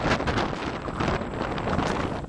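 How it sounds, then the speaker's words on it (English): Wind buffets a microphone outdoors at a bird sanctuary, a steady, loud roar of rumbling gusts filling the short span with no voices. "I just hear wind."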